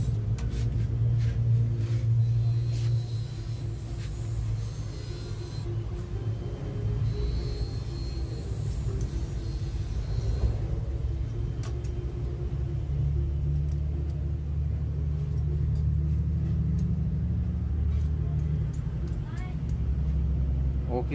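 A Suzuki F6A engine with hard morning starting runs at a steady low rumbling idle, close and continuous, with some clanks of handling and a person talking over it.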